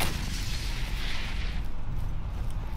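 Sniper rifle fire booms out in the shooter game Borderlands, heavy deep blasts blurring into a dense rumbling roar that fades slightly toward the end.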